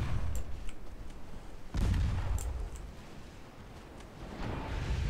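Troops fire massed volleys in the strategy game Total War, Greek campaign: a loud, dense burst of crackling musketry-like shots at the start, a second heavy volley near two seconds, then scattered rumbling reports trailing off.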